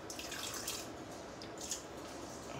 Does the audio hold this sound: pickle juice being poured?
yes